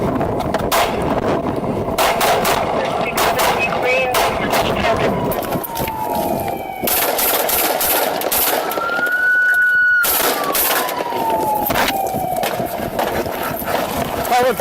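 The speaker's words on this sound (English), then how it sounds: "Pilot 33, shots fired, Walmart parking lot." Gunshots fired in a store parking lot during a police incident, sharp broadband cracks scattered through a dense, chaotic scene with a siren-like tone rising and falling and voices throughout.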